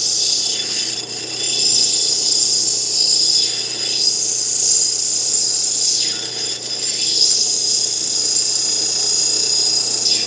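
Turquoise stone is ground on an 80 grit wheel, making a loud, continuous high whine with brief dips as the stone is pressed and lifted. The sound is close and stays steady throughout, with no voices.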